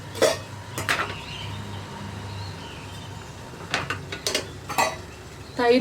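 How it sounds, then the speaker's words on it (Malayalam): A spoon scrapes and clinks against a pot as yogurt is stirred into a carrot and banana moru curry, a few sharp metallic taps at the start and end around quieter stirring. "തൈര് ചേർത്ത് കൊടുക്കുമ്പോൾ ഉടനെ തന്നെ ഇളക്കി കൊടുക്കണം"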